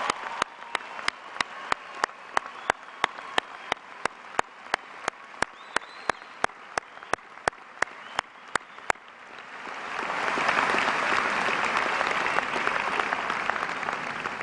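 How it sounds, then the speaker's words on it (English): At a high school graduation commencement ceremony, a long run of evenly spaced sharp ticks gives way to an audience bursting into sustained applause. The applause swells and stays broad and steady to the end. "join me in a round of applause to show our appreciation and recognize these brave individuals"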